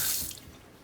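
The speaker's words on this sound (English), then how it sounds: "Rinse them off, put them in their corner." Soft shell crabs are rinsed under a running kitchen tap, a short, close burst of splashing water that fades quickly.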